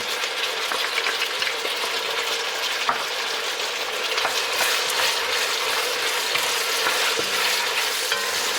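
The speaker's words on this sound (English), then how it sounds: "So get the onion nice and sweat it down. Bring some flavor out of it. Now I'm going to get my garlic in." Onion and garlic sweat in a hot pan, giving a steady, close sizzle with light scraping and stirring clicks throughout.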